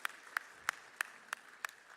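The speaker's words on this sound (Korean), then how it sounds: "박수 올려드립니다." Church congregation at a Korean Sunday worship service clapping in a slow, even rhythm, about seven evenly spaced claps, faint and distant with no talk.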